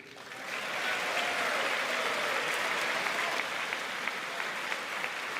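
A packed chamber at the State of the Union address breaks into sustained applause, many hands clapping in a broad, even wash that rises quickly and holds steady at a moderate distance.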